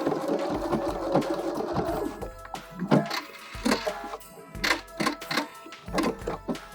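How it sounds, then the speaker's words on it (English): A sewing machine stitches ribbons onto an upcycled fabric gift bag, its needle running in short rhythmic bursts with brief pauses and clicks between runs, close and moderately loud with no talking. "So let's sew some ribbons on."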